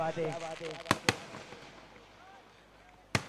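Three sharp firework bangs at a night cricket tournament, two close together and one after a pause, following a moment of talking at the start.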